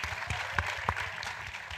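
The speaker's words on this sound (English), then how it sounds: "Give them a round of applause." An audience claps at a panel event, a fairly quiet, even patter of hands with a few sharper claps standing out, continuing for under two seconds.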